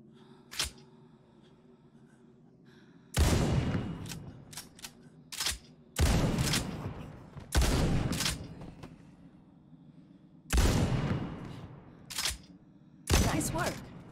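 Gunfire in The Walking Dead Onslaught, sharp loud shots ringing out in irregular bursts separated by pauses and quieter handling clicks, with a low ambient hum beneath.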